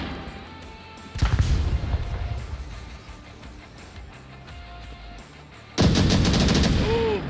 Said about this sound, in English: Flashbang comes out